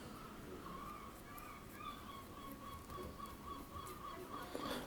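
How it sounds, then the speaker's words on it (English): Seagulls call on a beach, a run of repeated honking cries at moderate distance over steady surf and wind noise, with no voices. "A lot of seagulls this year."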